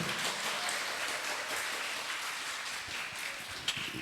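An audience at a religious literacy gathering claps steadily in a dense, continuous wash of applause that holds at an even level throughout, with no voices breaking through.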